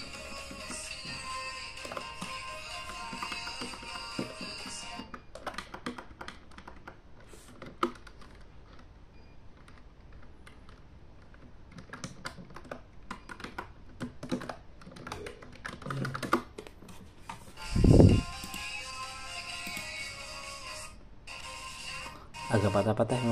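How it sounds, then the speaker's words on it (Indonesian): Key clicks from typing on a keyboard attached to a cheap fanless mini PC, a scattered run of light taps near the start and again later, with quiet gaps and some talking in between. "kita coba ya ngetik"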